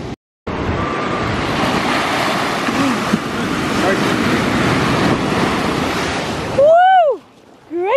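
Ocean surf on an Outer Banks beach in North Carolina roars steadily under gusting wind noise, then a voice calls out briefly near the end.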